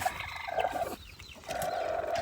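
Clucking from a black hen that has just hatched chicks, with faint, somewhat distant calls rising and falling against soft background noise and a brief quieter stretch in the middle, no voices.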